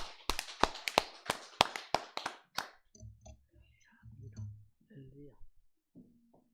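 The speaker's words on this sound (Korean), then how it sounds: "하나님 앞에 감사 박수 올리겠습니다." A church congregation at a Sunday worship service breaks into a short burst of sharp clapping, then falls away as a voice continues speaking quietly.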